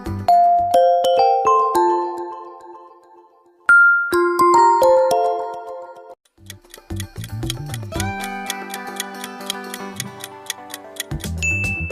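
Windows Mobile phone ringtone plays loud and clear: a bright chiming melody of bell-like notes, a brief pause, the phrase repeated, then a denser rhythmic section with quick ticking beats and a deeper bass line.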